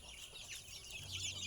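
Backyard chickens, including a mother hen with chicks after a night of heavy rain, cluck softly and irregularly in a quiet, faint outdoor scene.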